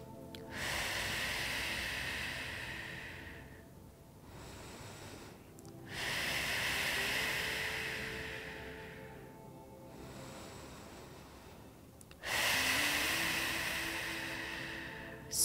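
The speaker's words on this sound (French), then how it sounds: "Et on inspire et on expire au maximum." Deep, slow breaths in and out during an outdoor yoga session: three long, hissing breaths, close and steady, each separated by a brief pause, with no talking.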